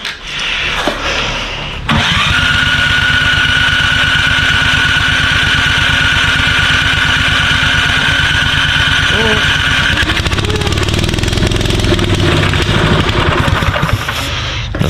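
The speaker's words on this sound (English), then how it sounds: "That starter doesn't sound happy." A snowblower's starter cranks briefly, then the engine catches and runs loud and steady with a fast, even chug, the note shifting slightly near the end, with a voice speaking over it.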